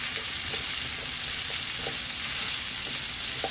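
Sliced mushrooms sizzle and fry in a hot pan over sautéed ingredients, a loud, steady crackle with brief pops and light stirring scrapes throughout.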